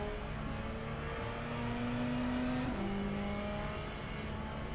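Race car engine in the Le Mans Ultimate racing game, a GTE car, droning steadily with a sustained tone that climbs in pitch then drops once, as if shifting, held at a low, even level throughout.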